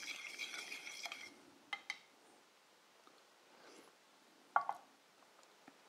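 A spoon stirs yuzu amazu sauce in a bowl, with a soft scraping swirl at first, then a few sharp, close clinks of metal against the bowl's side between quieter pauses.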